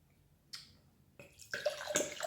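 Spring water poured from a glass bottle outdoors in the woods: a faint tap, then a gurgling stream of water that starts abruptly and grows louder toward the end.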